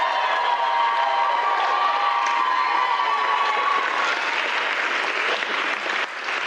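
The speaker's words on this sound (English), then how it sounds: "Now, I think that cheer speaks for itself." Wedding guests cheer and applaud the bride after a speech: a loud, dense and sustained wash of clapping and shouting from a large crowd that starts to thin only near the end.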